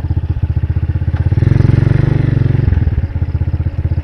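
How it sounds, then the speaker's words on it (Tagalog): A motorcycle engine runs close by with a steady rapid throb that swells louder mid-clip, then settles back to an even idle-like chug, on a sandy road. "Ito yung motor niya guys oh."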